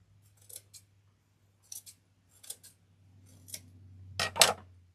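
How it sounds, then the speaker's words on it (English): Scissors trim along the edge of a primitive star door hanger craft piece: a few crisp, separate snips at first, then a louder burst of quick cuts at the end, close and clear over a faint hum. "I'm just going to trim along the edge here."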